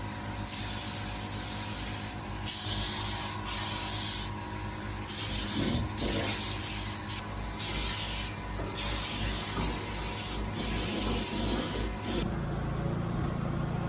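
Steady hiss of a spray gun laying a top coat of brown paint onto a Bedford truck cab, long continuous passes broken by brief pauses, close and loud over a low background hum.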